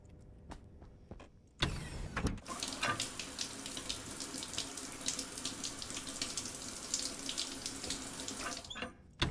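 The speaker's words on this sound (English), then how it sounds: "My guy does need a shower though." Shower water running steadily in the space-colony game Stationeers, a continuous hissing spray that starts abruptly after a few faint clicks and carries on alone at moderate level before cutting off.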